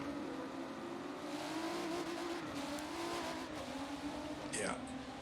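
A race car in a racing video game climbs the hill at Brands Hatch under hard acceleration, its engine a steady, loud drone that rises slightly in pitch, with a commentator talking over it and a brief squeal near the end.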